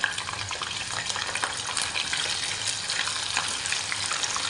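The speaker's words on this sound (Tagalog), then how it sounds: "Iprito nga muna natin yung patatas" Potatoes frying in a pan give a continuous close sizzle with a watery, hissing texture and small crackles, steady for several seconds.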